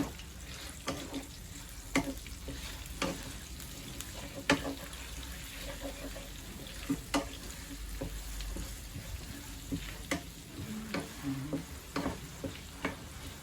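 Sliced ginger fries in hot oil with a constant soft sizzle, broken by frequent light clinks and scrapes as a utensil stirs it in the pan, with no one talking.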